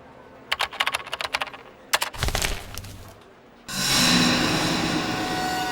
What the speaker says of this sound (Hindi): फ्रेडी, जरा इसे टाइप करके देखो, AIDA, आइडा